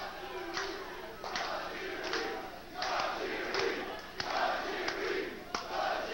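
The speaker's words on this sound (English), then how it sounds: "Crowd getting Tajiri psyched." A wrestling crowd chants and cheers in rhythmic bursts for a wrestler, loud surging waves of voices with thumping claps or stomps in a regular beat.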